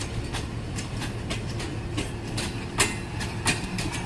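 An Awam Express passenger train passes on the railway, with steady wheel rumble and a regular clickety-clack of rail joints, plus a few sharper knocks, close and continuous throughout.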